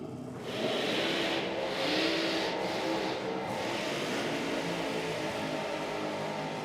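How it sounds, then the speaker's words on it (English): An alcohol dragster with a Chevrolet engine roars during a burnout, its revs rising and dropping in repeated throttle stabs, loud and sustained with a few brief dips. "multiple stabs at the throttle there in the burnout for Pete Wheeler"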